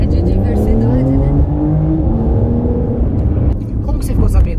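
A Porsche car engine revs loudly and close by, its pitch rising and falling in long sweeps. Voices talk over it throughout.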